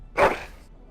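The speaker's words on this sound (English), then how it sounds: "That is a wonderful dog." A dog in the video game Dragon Age: Origins gives one short, sharp bark, close and clear, followed by quiet.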